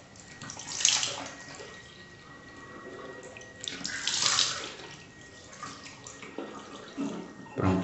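Tap water runs and splashes steadily while a face is washed with liquid soap at a bathroom sink during a skincare routine, with louder surges of splashing as hands move through the stream; no talking.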